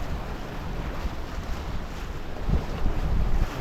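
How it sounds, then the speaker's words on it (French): Wind rises on a sailboat out at sea during an ocean crossing, a broad rushing roar with gusty buffeting on the microphone that swells louder toward the end, with water sounds beneath and no voices. "on commence à avoir du vent"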